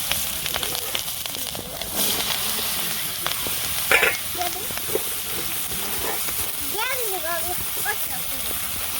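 Chopped bottle gourd dropped into hot oil left over from frying fish, sizzling and crackling steadily with occasional stirring, while someone talks over it.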